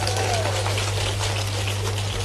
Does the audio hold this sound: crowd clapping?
yes